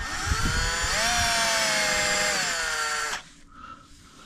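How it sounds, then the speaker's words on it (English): A power drill bores pilot holes for mounting a stake-out pole mount, one continuous high whine at steady speed that dips in pitch partway through, then stops abruptly and leaves quiet handling noise. "let's drill some pilot holes here"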